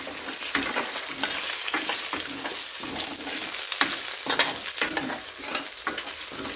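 Salt and chili powder are stirred as they fry in a pan, giving a continuous sizzle broken by repeated rhythmic scrapes of the spoon.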